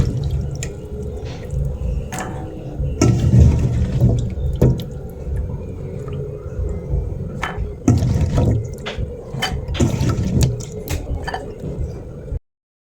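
Mud crabs are washed in water, with splashing, dripping and squishy handling sounds coming in irregular bursts close by.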